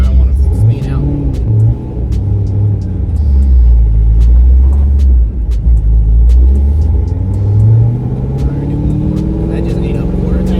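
A 1000hp Corvette engine heard from inside while driving, a loud, continuous low rumble with gentle rises in pitch as the driver eases on the throttle, plus occasional sharp ticks.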